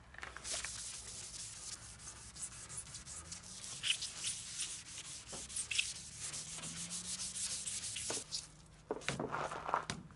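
Hand sanding of car bodywork with 800 grit abrasive, working a red candy paint job on a Peugeot 406 outdoors; steady scratchy rubbing strokes run nearly continuously at close range with brief pauses, no talk.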